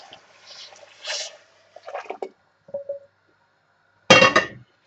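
Stock is poured into a pot of lentil soup with cherry tomatoes, giving a few short splashing and trickling bursts separated by pauses, then a louder splash near the end; close by with no talking.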